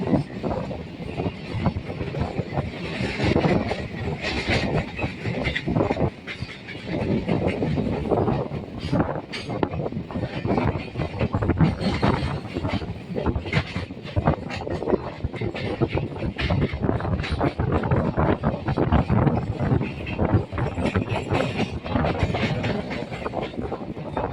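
A train rumbles along new track near Dankuni station with steady clattering and rushing wind noise, continuous and fairly loud throughout, no talking.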